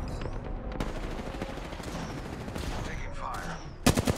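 Gunfire in an Apex Legends match, a short close burst of rapid shots arriving at the very end after a stretch of busy game ambience and distant firing.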